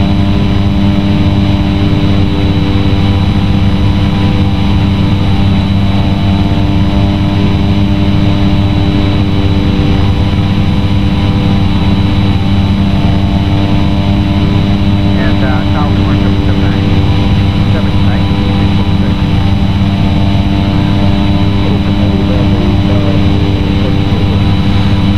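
The single turboprop engine of a Cessna 208B in a flight simulator holds a loud, steady drone with a fixed hum that stays unchanged the whole time.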